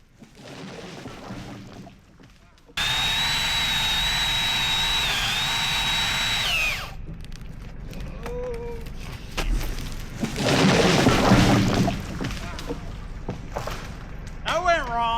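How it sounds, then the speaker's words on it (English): A small, powerful chainsaw screams at high revs for about four seconds while cutting through a tree's hinge, then cuts off. Rustling and a heavy crashing burst follow, with people talking before and after. "I'm not used to the type of power on this little saw, and I cut right through the hinge"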